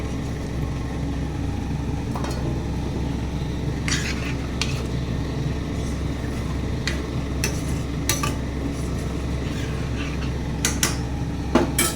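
Fried paneer goes into a pan for matar paneer and is stirred, with metal utensils scraping and clinking against the pan over a low steady sizzle.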